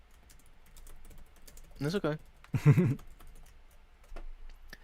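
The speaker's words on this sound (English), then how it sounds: "I'm bad at typing. Hold on a second." Quick, soft taps on a computer keyboard running through the background while someone speaks briefly over them.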